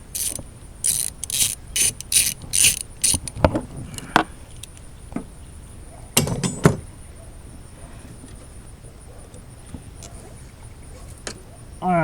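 A ratchet backs out a T50 steering shaft bolt on a 2015 Jeep Grand Cherokee, giving a quick series of close, rhythmic clicking bursts early on, followed by scattered metallic taps and quieter shop noise.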